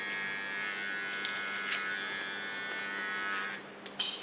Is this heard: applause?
no